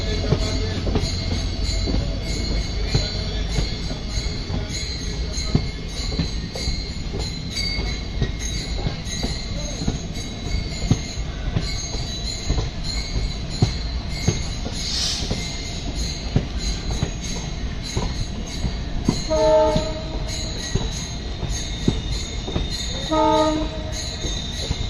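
The Meenakshi Express, a diesel passenger train on the Rameshwaram to Madurai line about a kilometre from Madurai, rumbles steadily up close with rattling carriages and brief wheel squeals, and no one speaks.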